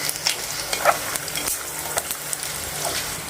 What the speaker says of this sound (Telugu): బాగా కొంచెం లైట్గా వేయించుకోవాలి.